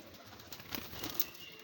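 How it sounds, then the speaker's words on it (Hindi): Pigeons at a pigeon stand make soft, faint cooing with light rustling and wing movement. The sounds are quiet and fairly close, with no talk. "कबूतर का स्टैंड देखें आप, और बड़ा यंग पट्ठा है"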